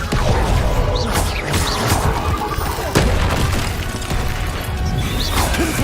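A Depulso spell impact in the video game Hogwarts Legacy, a loud booming crash amid continuous combat clatter and thuds, with repeated sharp hits through the scene.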